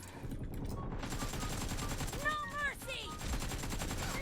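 Rapid automatic gunfire in the PUBG Mobile battle royale game, dense continuous bursts running through the whole stretch, with a few brief tonal game effects layered on top.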